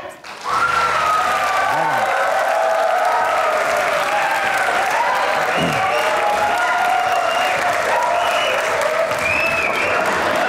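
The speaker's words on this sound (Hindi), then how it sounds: "आपकी भरपूर तालियों में ज़ाहिद अहमद।" A studio audience at a comedy talk show gives loud, sustained applause and cheering that runs unbroken, with a few voices rising above the crowd.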